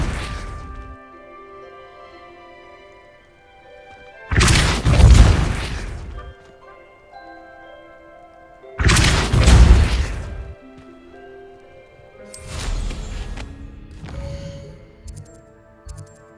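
Three heavy magical blasts from the Depulso force-push spell in Hogwarts Legacy during a Merlin trial, each a loud thumping crash with scattered debris, separated by quieter gaps over a steady game music bed.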